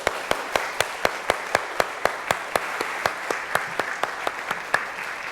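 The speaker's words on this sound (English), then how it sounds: "Let's give them a big round of applause." An audience applauds at the end of a panel presentation; individual sharp claps stand out in a quick, even rhythm over a softer continuous patter, moderately loud throughout.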